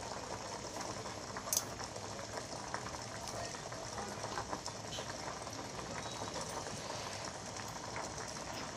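Potatoes parboiling in a pot of water for homemade French fries, a faint, steady bubbling hiss that runs throughout with no pauses and no voices.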